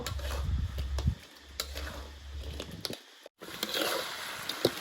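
Fried fish tossed and stir-fried in sauce with kaffir lime leaves outdoors: scraping stirs and light sizzling up close, with gusty wind rumbling low beneath and a brief drop-out midway.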